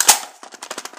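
A Mission First Tactical polymer magazine seats into an AR-15 rifle with a sharp click, then a quick run of small plastic and metal rattles and taps, close and fairly loud.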